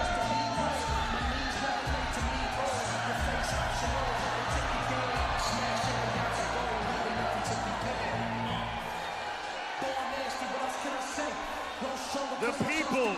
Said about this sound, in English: Maybe hearing the crowd like this will make him reconsider.